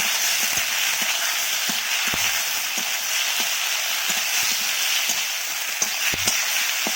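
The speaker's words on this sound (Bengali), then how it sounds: "দিয়ে ভালো করে ভাজা ভাজা করে নেব" Ground gandal leaf paste frying with koi fish in a pan, a steady loud sizzle with a few soft spoon clicks scattered through, no talking.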